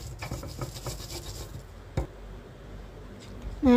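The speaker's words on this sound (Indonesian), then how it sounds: "Kita haluskan semua bumbu ya teman olenku semua," Garlic and spices are ground into a paste, giving soft, close, rhythmic scraping and rubbing strokes that fade toward a quieter stretch, with no voices.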